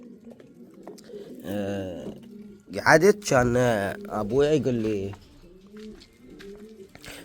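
Pigeons in rooftop cages give low, soft coos in the background while someone speaks over them for most of the stretch.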